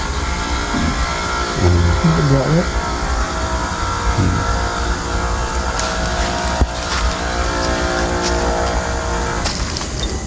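A motorcycle engine passes by outdoors, a steady broadband motor drone lasting the whole stretch and swelling slightly near the end, with a few brief voices talking over it.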